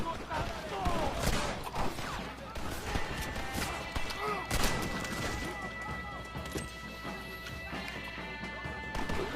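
Gunfire in the Red Dead Redemption video game, a string of sharp cracking shots and clattering impacts over a dense rumbling game soundscape, with a voice talking over the top.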